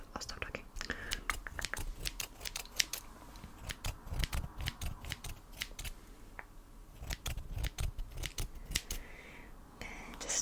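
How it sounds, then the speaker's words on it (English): Close, crisp scissor snips trimming hair in an ASMR haircut, quick irregular clusters of sharp metallic cuts with short pauses, intimate and quiet, with soft whispery sounds around them. "I'm just gonna be trimming your hair"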